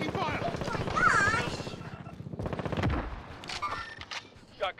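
Rapid automatic gunfire in Call of Duty on Rebirth Island rattles in bursts, mixed with voices talking over it and later clicks and footsteps.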